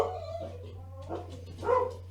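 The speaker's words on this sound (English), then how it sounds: "I'm sure you guys can hear the dogs barking" A dog barks and whimpers a couple of times, sharp and fairly close, over a low steady hum.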